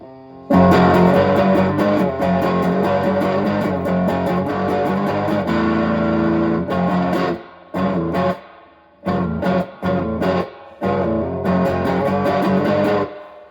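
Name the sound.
Ibanez AX120 electric guitar, rear pickup, distortion effect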